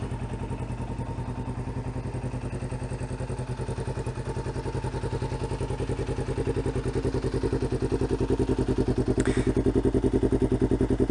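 A Kawasaki Ninja 500R fitted with a full Muzzy exhaust idles steadily on a cold morning, its rapid even pulsing loud and close, with a faint brief hiss partway through and no talk over it.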